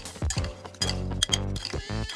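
A spoon clinks and scrapes against a bowl while beef gelatin powder is stirred into ingredients for a keto fruit crumble, with several distinct ringing taps in an uneven rhythm, close and clear.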